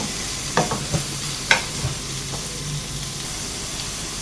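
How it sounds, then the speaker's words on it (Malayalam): Pineapple pieces sautéing in ghee in a pan, a soft continuous sizzle with a few light stirring scrapes and clicks, close and fairly quiet. "ഇത് നമുക്കൊന്ന് നെയ്യിലിട്ടൊന്ന് മൂപ്പിച്ചെടുത്തുകൊണ്ട് വരാം"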